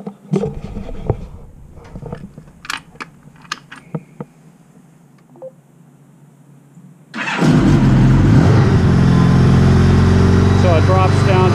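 A 1985 Honda GL1200 motorcycle with a failing charging system: after some quiet clicks and taps, the engine suddenly fires and settles into a loud, steady running drone up close.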